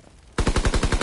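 Rapid automatic gunfire from a Call of Duty WW2 multiplayer match breaks out after a brief quiet moment, a loud close burst of about eight evenly spaced shots.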